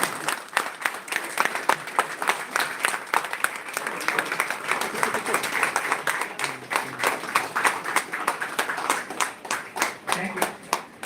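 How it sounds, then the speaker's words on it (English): A lecture audience gives a standing ovation, with dense, steady clapping from many hands filling the room, continuous and fairly loud before thinning slightly toward the end. "So please stand up and give a grand round of applause to sir."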